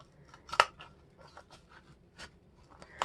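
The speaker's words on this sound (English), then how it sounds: "then you can take your scissors" Scissors snip through material while a retro drum Christmas ornament is cut out, a handful of short, crisp cutting crunches spaced irregularly, up close and fairly quiet.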